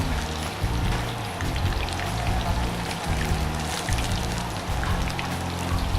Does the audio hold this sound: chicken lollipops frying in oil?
yes